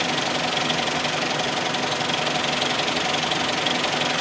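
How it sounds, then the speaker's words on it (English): A Hyundai i30 with the G4FA engine idles in a steady, even mechanical hum with a faint rhythmic ticking, close and continuous throughout with no speech. "So engine is very, very smooth, sound is all right"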